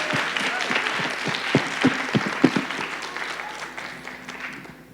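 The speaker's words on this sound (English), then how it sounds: "One big round of applause." A round of applause from the audience for the panelists at a youth patent holder panel discussion: steady crowd clapping with a few louder claps in the middle, tapering off toward the end, with voices underneath.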